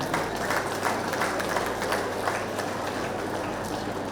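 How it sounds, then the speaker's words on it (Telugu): Audience at a rally in Guntur clapping for a guest on stage, a steady dense wash of applause that holds loud and even for the whole stretch. "అన్నా మరియా గారికి ఒకసారి గట్టిగా క్లాప్స్ కొడదాం అందరం కూడా"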